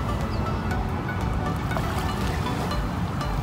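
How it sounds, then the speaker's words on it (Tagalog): Waves wash against the shore of Manila Bay in a continuous, close, hissing surge with soft splashes, alone and without talk. "Nakaka-relax pakinggan yung hampas ng alon."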